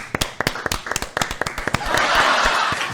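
Studio audience on a French television show clapping, a quick run of sharp individual claps that swells into a denser burst of applause.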